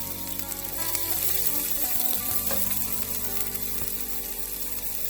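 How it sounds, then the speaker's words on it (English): Onions fry in hot oil with spluttered mustard seeds, producing a steady, close sizzle that holds throughout with no voices. "After the mustard seeds splutter, I'm going to add in the onions."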